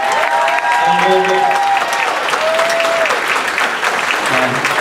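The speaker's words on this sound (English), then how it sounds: "Let's give them another round of applause." A crowd gives a performing group another round of loud, continuous applause after an afternoon program, dense clapping throughout with faint tonal sounds and a few voices underneath.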